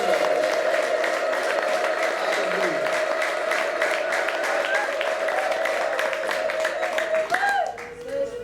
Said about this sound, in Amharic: ለእግዚአብሔር ጭብጨባ እልልታችሁ።